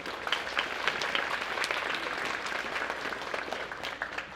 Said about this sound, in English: So if you can give them a big round of applause.